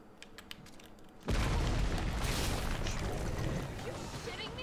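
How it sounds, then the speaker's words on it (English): A grenade blows up in the Resident Evil 3 Remake video game. A sudden heavy boom cuts in and becomes a loud, sustained roaring rumble after some faint game clicks. "Take out your grenade because Nemesis is gonna jump you, and one grenade will down him."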